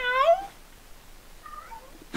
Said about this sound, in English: calm down with your meowing